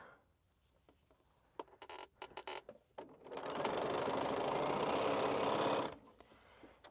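A sewing machine stitching a quilt row, starting with a few short stop-start bursts before running in one loud continuous whir for about three seconds, then stopping; no talking.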